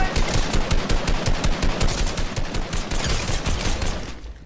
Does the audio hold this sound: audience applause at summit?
no